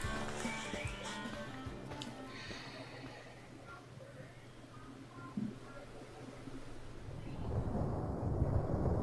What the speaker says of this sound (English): what's up with that random storm in the distance?